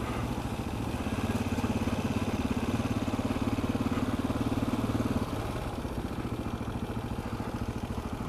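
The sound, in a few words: KTM 640 LC4 supermoto motorcycle engine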